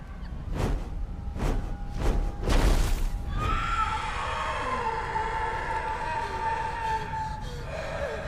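A horse in the animated series RWBY neighs loudly and shrilly in a long whinny after a few heavy booming hits, then an airy sustained tone carries on.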